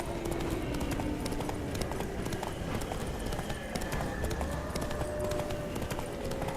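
Hoofbeats of Geralt's horse Roach galloping in The Witcher 3: Blood and Wine, a steady rhythmic clip-clop over continuous ambient game music and effects, with no talk.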